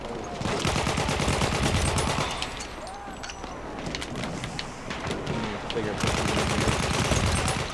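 Gunfire in the video game Battlefield 1, dense rapid bursts of shots that continue almost throughout, with a voice talking under them.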